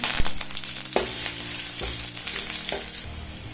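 Chilies, curry leaves and garlic fry in hot oil for a buttermilk sambar, a loud continuous sizzle broken by sharp crackles and spoon stirs against the pan.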